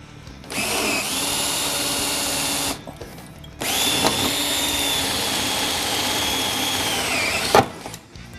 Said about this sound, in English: Once they're knocked out, then you're going to start drilling on them. Take your 3/16 drill bit.